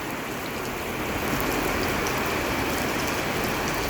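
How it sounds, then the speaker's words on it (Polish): Steady rain falls on the surfaces of a farm yard in a constant, even hiss with no breaks and no voices. "Pada."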